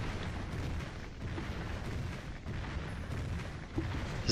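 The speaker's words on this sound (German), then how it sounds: "wir haben noch 200 Schuss in dieser Kanone. Die verballern wir jetzt einfach mal alles" In the video game Painkiller, a cannon weapon fires nonstop in a dense, rapid barrage. It makes a continuous rumbling roar of overlapping booms for several seconds, loud and close, with no talking.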